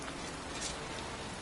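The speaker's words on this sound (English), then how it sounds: "It's cold. It's raining." Rain falls steadily outdoors on a cold night near a cemetery, a dense even hiss of drops at moderate loudness with no voices.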